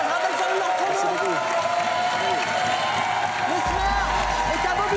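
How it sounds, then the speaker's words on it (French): A studio audience applauds Clara Morgan on a French late-night television show, with dense, steady clapping and some cheering that holds throughout while a host speaks over it. "on l'applaudit encore, Clara Morgan"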